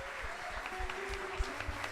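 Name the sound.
church congregation applauding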